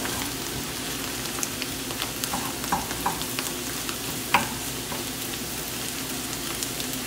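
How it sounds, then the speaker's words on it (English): Egg sizzles and fries with cauliflower rice in a pan while being stirred and scrambled: a continuous soft frying hiss broken by light scraping and tapping from the utensil, no talking. "So kind of cook up the egg part of the way."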